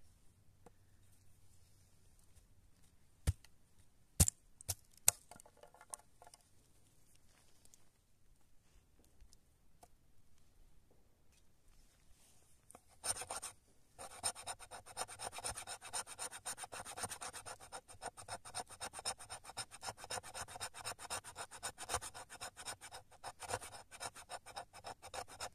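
A knife carving wood gives faint scattered clicks and then, from about halfway on, a steady run of quiet close scraping and rasping as shavings come off.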